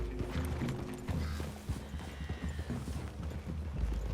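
Horse hooves in Red Dead Redemption 2 clop in an irregular walking rhythm over a steady low rumble, with faint creaks and jingles mixed in.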